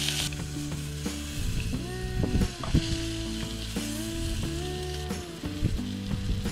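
Freshly caught fish sizzle and fry in a pot over an outdoor camp flame on the Lower Yorke Peninsula. The crackling is close and steady, with sharper spits and utensil scrapes scattered through.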